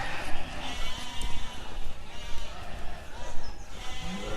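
Sheep bleat while walking along behind a person leading the flock, several calls rising over shuffling footsteps and rustling, with a voice briefly heard in the background.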